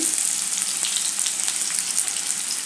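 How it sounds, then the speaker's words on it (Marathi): Chopped onion frying in hot oil with cumin seeds, a steady, close, bright sizzle with faint crackles and occasional light stirring, no voices. "कांदा व्यवस्थित परतून घ्यायचा आहे"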